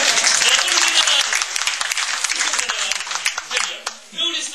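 An audience at a Francophonie event in Kosovska Mitrovica claps steadily and warmly, sustained applause filling the space, tapering slightly toward the end.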